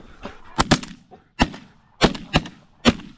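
Shotgun blasts fired at snow geese on a spring hunt, five sharp loud reports in quick uneven succession, two close together then single shots, with brief shouting between them.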